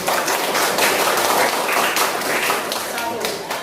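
A classroom of students claps, a dense, steady wash of hands close by that fades slightly toward the end, with voices mixed in.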